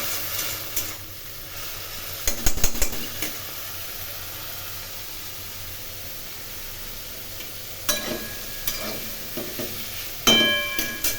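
Small prawns frying in a pan give a steady hiss and sizzle throughout, broken by a few louder scrapes and clatters of stirring.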